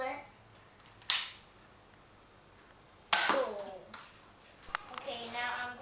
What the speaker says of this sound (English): now I'm gonna shoot the Nerf Elite Strong Arm